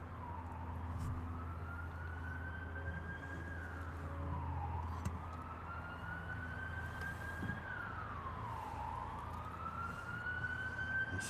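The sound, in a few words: siren approaching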